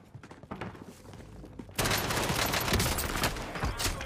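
MP7 submachine gun fire in the Warzone video game: sparse distant shots give way to a dense, loud sustained burst of rapid automatic gunfire that fills the rest of the moment.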